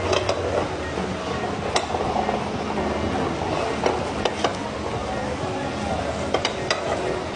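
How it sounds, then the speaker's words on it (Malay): Continuous sizzling of grana padano cheese frying in a hot pan, with a few light clinks of a utensil. "Kita goreng dengan grana padano."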